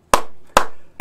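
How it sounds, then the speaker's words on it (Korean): Three sharp, loud, evenly spaced claps from an audience at an outdoor political rally, each a crisp unison slap followed by a brief decaying ring. "우리 다 같이 박수 한번 치시죠."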